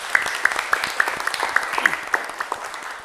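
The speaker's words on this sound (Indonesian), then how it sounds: "Berikan aplaus untuk kelompok Rapasya" A classroom of students claps for a presenting student group, a steady dense patter of many hands at close range that lasts throughout.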